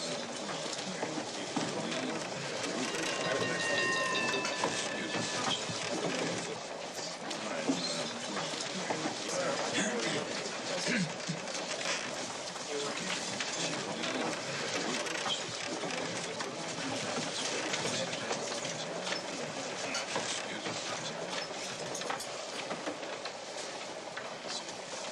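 A passenger train car rolling on the night run from San Francisco to Los Angeles, with a steady rumble and rattle of the wheels throughout and faint, scattered voices inside the carriage.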